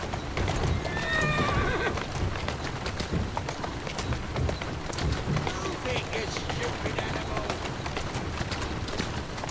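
Horse hooves clip-clop in a quick rhythm in the video game Assassin's Creed Syndicate, with whinnies near the start and a steady rain-like hiss underneath.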